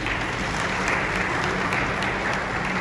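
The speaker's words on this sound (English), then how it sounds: "Let's clap for the Speaker." A crowd of conference attendees applauds a speaker at a parliamentary gathering, a dense, continuous roar of clapping filling the hall at steady volume.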